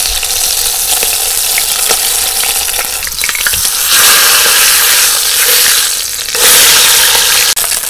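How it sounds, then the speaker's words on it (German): A pork roast sears hard in a Petromax FT9 Dutch oven, a loud continuous crackling sizzle with bursts of spitting fat and louder surges as the meat is shifted, no speech. "Schön scharf anbraten, man sieht die Kruste ist schon ein bisschen aufgegangen."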